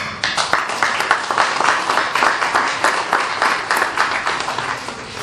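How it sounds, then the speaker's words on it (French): An audience applauds at an exhibition event at the Maison de l'Artisanat in Marseille, with steady, dense clapping from many hands that carries on evenly throughout and no voices over it. "ça mérite vos applaudissements"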